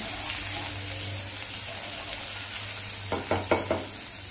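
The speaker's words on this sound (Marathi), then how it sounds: "मिरची पेस्ट चांगली तेलावरती परतवून घेऊया." Chili paste sizzling and frying in hot oil in a pan, a steady soft crackle with a few louder stirring scrapes near the end, close and fairly quiet, no talking.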